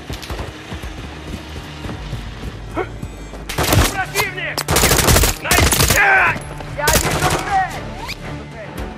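Gunfire in Call of Duty: Modern Warfare 3 at a crash site, several loud close bursts of automatic fire and sharp shots mixed with game noise and voices.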